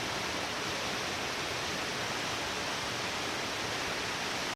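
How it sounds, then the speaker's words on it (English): Fallingwater Cascades on the Blue Ridge Parkway, heard from the base of the falls: a loud, steady roar of crashing water filling the whole range without a break, ending abruptly. "The water's pretty loud right here. We are right at the base of the waterfall."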